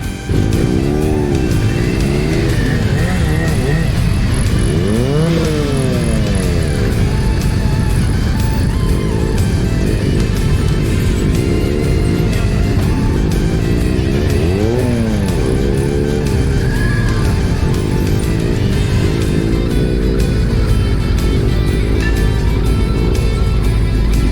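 Loud motorcycle engines rumble and rev continuously as many bikes ride past in a steady procession at a Santa-themed motorcycle parade in Kraków, pitches rising and falling as they pass.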